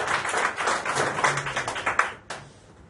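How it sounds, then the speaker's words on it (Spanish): A church congregation claps during a Spanish-language sermon, brisk pulsing applause for about two seconds that breaks off sharply, then a final short burst fading out. "dale un aplauso al Señor, hermano."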